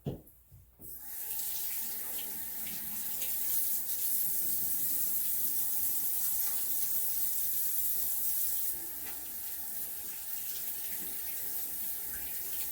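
A tap runs steadily with water splashing into a sink, a continuous hiss that shifts slightly as hands move under the stream.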